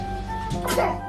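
A single short, sharp sneeze bursts out over a low background hum, brief and close.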